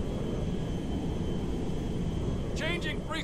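Jet aircraft flying in GTA V, a steady loud broadband engine roar throughout, with a brief burst of speech near the end.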